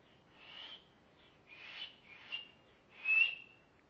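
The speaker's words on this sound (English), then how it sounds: "Three different whistles." A person whistles through the fingers using different hand positions, three separate shrill, piercing whistle bursts spaced about a second apart, the last the loudest, with no talking.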